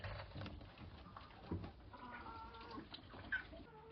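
A hen clucks softly in short, scattered bursts amid faint farmyard background noise, with no one speaking.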